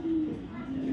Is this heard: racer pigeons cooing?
yes